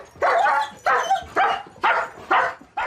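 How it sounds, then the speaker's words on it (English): Loud, close barking from dogs, including a bulldog, warning off visitors at a home, with about six sharp barks repeating in a steady rhythm and no other sounds between them. "First thing they do is bark very, very loud to warn the people off."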